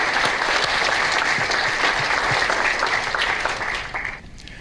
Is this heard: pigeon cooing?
no